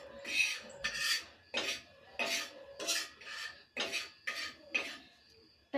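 A ladle stirs an egg mixture in a bowl with repeated scraping, rasping strokes that come in an even rhythm of about eight passes, close and clear with quiet gaps between them.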